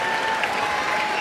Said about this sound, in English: Crowd knows how valuable he is. Give him a bit of a round of applause.